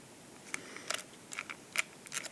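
Film-advance knob of a Kristall-53 rangefinder camera being wound, a quiet, close series of small dry clicks and ratcheting ticks in short irregular bursts.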